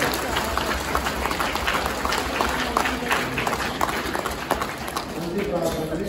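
A congregation at a Christmas Mass in a church claps together in unison, a dense, steady wash of applause that fills the whole stretch.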